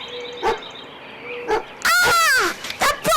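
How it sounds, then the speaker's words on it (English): A dog barks during a church puppet show: a couple of short, sharp barks separated by a pause, followed by an excited voice. "The prodigal dog returns!"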